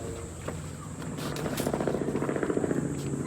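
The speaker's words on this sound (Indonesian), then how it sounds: "Guys, ada helikopter guys." A helicopter passes over the Great Wall of China, its rotor chop building into a rapid rhythmic thumping that grows louder toward the end against faint outdoor background noise.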